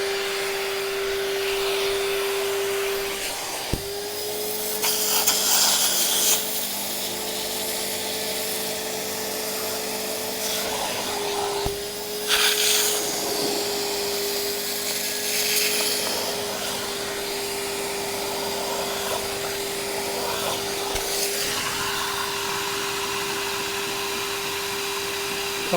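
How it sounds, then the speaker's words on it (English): A wet vac runs steadily to pull stains out of the upholstery of a Suzuki Wagon R+, its whine rising and dipping each time the nozzle passes over the fabric, loud and close with no talk. "I'll set up my wet vac and stuff, and we'll pull that off and see if we've got rid of the stains"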